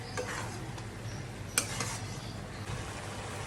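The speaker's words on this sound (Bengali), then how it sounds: "এবার এটা ততক্ষণ পর্যন্ত কুকড হবে যতক্ষণ এই পেঁয়াজটা সম্পূর্ণ গলে না যায়।" Onions cooking down in a pan make a soft, continuous sizzle, with occasional stirring scrapes and a single sharp utensil clink; it is quiet and close, with no talking.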